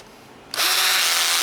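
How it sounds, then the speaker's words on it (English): A power drill whirs on suddenly and runs steadily at close range, driving soft clutch bolts on a Yamaha Banshee clutch pressure plate, a loud high-pitched buzz lasting about a second after a short quiet start. "If you use a drill on these, turn the torque setting down."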